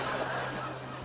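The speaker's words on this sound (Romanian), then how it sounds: "Telefonul care sună" A telephone rings with a steady electronic tone that holds at a constant pitch, moderately quiet and heard alone through the whole moment.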